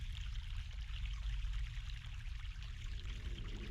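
Mountain water pouring in the video game The Longest Journey, a steady, close, continuous gush with no pauses or voices.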